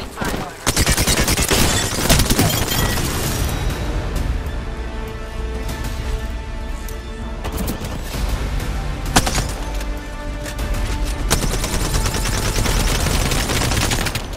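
Rapid gunfire in Apex Legends rattles through a busy firefight, bursts of shots stacking over one another at close range with continuous loud game noise and some speech mixed underneath.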